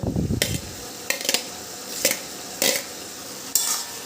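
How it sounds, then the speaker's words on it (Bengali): Fried potatoes tipped into a pan of ash gourd curry over high gas heat, then stirred with a utensil: a low sizzle underneath and several sharp metallic scrapes and clinks coming in irregular bursts. "এবার আমি এর মধ্যে দিয়ে দিচ্ছি ভেজে রাখা আলুগুলো"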